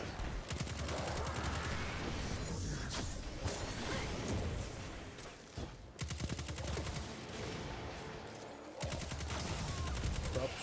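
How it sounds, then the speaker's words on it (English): Dense, continuous gunfire in the video game Destiny 2, with rapid overlapping shots and bursts that stay loud through most of the stretch, a brief dip near the middle, and mechanical clatter mixed in. "Stop shooting at me,"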